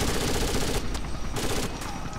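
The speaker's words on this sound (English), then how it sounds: "I'm hearing that machine gun" Sustained automatic gunfire in a Rainbow Six match, a dense, loud rattle of rapid shots that continues for about two seconds with barely a pause.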